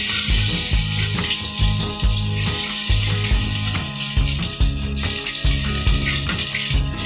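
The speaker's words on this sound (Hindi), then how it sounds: "इसको थोड़ी देर फ्राई करेंगे।" Chopped onion fries in hot mustard oil in a pan, a steady close sizzle and hiss that holds loud and continuous throughout, with rhythmic low thumps in the background and no voices.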